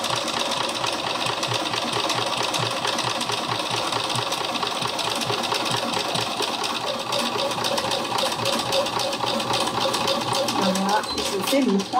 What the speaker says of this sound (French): Pensez vraiment à allonger votre point pour aider la machine à passer l'épaisseur